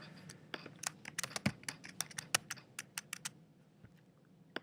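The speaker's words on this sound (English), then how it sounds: "I'm going to type in the author's name." Typing on a computer keyboard: a quick, uneven run of crisp, close key clicks with short pauses between bursts, heard alone against a quiet background.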